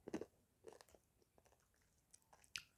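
Someone bites and chews a Crunchie Blast ice cream with popping candy pieces, giving a few sharp close crunches and crackles between quiet pauses.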